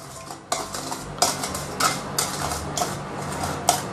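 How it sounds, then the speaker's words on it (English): A spoon stirs red fermented tofu sauce in a bowl, marinade for crispy deep-fried pork belly, with steady scraping and a few sharp clinks against the bowl's side, close and clear. "make sure the red fermented tofu is nicely dissolved"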